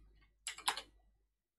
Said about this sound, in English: let's type GNOME Shell Extensions